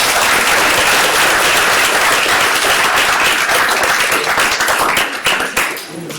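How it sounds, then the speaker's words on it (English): A conference audience at a biotech company showcase gives a loud, sustained round of applause, dense clapping filling the room and thinning slightly toward the end. "How about a round of applause for everybody?"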